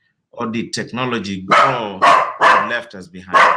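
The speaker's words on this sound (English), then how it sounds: "Excuse me, that's my dog." A dog barks several times in quick succession beneath someone speaking steadily, the loud yaps overlapping his talk in the second half.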